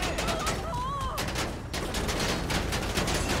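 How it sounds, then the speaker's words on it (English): Rapid bursts of gunfire in GTA 5 during an attack on a police motorcade escorting a judge, with repeated sharp shots across the scene, loud and continuous, plus game sirens and voices around it. "Where am I getting shot from?"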